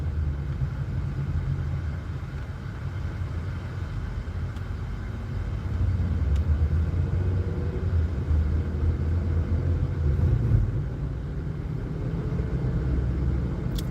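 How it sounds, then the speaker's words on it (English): Steady street traffic rumbles near a carnival on a busy road with several blocked-off streets, a continuous low drone of cars and engines that swells slightly midway and carries on without speech. "Lots of traffic."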